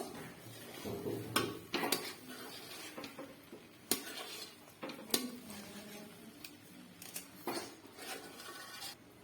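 Food being stirred in a cooking pot, heard up close as irregular scrapes, soft knocks and sharp metallic clicks of a spoon against the pot, with no talking.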